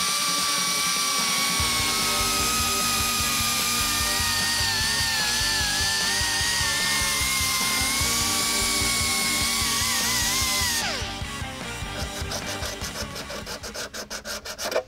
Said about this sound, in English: we're using 50 grit sandpaper to grind down the pieces, make sure we get a good strong bond